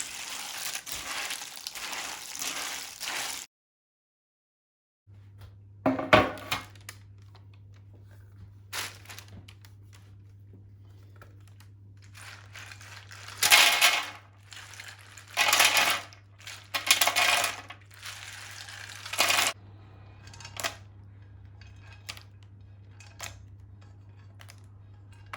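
Scattered clicks, rattles and scraping bursts as pistachios are stirred with salt and saffron in a bowl, close and intermittent, over a low steady hum.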